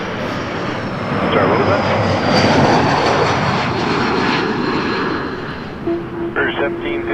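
A Jazz Embraer 175 jet at Toronto Pearson gives off a loud, broad engine roar that builds and holds, then eases near the end, with a brief spoken question over it.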